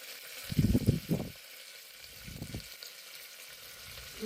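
Mustard seeds, cumin and curry leaves crackle and sizzle in hot oil, with two loud bursts of spluttering over a fainter, steady background hiss.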